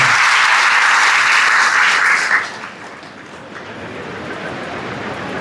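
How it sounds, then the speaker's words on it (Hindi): Loud applause from an audience at an annual religious festival gathering at Baba Dayaram Dham in Karnal, a dense burst of clapping for about two seconds that drops off into quieter, lingering crowd noise. "इसीलिए इनके लिए जोरदार तालियां बजाएं।"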